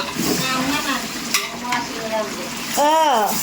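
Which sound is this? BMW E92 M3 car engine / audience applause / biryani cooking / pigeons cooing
biryani cooking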